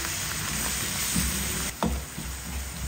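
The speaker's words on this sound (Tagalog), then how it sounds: "And then, saka natin igisa-gisa." Onion, ginger, chili and garlic sautéed in a pan for a shrimp paste dish, a close, steady sizzle with a brief clatter of stirring partway through, no speech.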